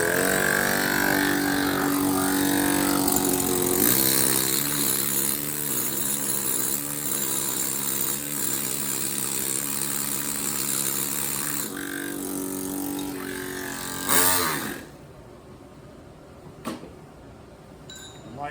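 Power drill boring into stone while carving a life-size pointing angel statue, a loud sustained whine with shifting pitch that cuts off near the end, leaving quieter workshop sounds and a few knocks.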